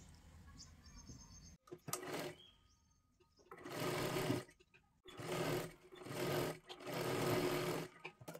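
A sewing machine stitches a cross strip onto a katori blouse in loud close bursts, about four runs of rapid whirring stitches separated by short pauses.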